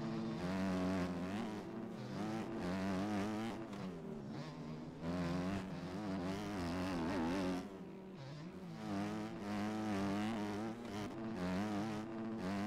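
Two-stroke motocross bike engines in the MX Bikes racing game buzz and whine continuously, revving up and down with shifting pitch as the bikes race together.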